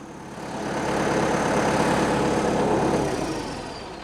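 A new Scout TB-904C tractor engine runs steadily at a low, rumbling idle, swelling louder through the middle and easing off toward the end.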